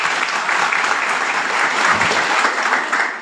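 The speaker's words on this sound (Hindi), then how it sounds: "जोरदार तालियां इनके लिए" Steady, loud applause from a seminar audience, dense clapping filling the hall for the full stretch without a break.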